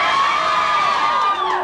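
A crowd of excited students at a late-night aurora-watching gathering near Anchorage cheers and whoops together in one loud, sustained burst of overlapping shouts.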